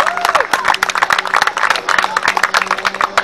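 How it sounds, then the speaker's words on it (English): A crowd applauds at the final game of the Illinois Premier League Cricket Conference, with dense, loud, continuous clapping close by and a few cheers mixed in. "One round of applause for Mr. Rana."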